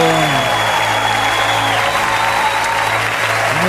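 A church congregation applauds during worship in a steady, dense wash of clapping that fills the whole span at a loud level, with faint voices and a sustained musical tone beneath.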